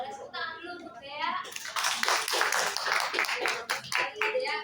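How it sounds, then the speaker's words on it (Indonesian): A classroom group breaks into clapping after a speaker's voice in a microteaching lesson; many hands clap briskly and fairly close for about three seconds, filling the room. "boleh tepuk tangan dulu untuk Dea."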